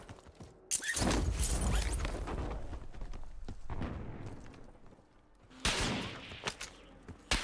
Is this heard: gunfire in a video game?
yes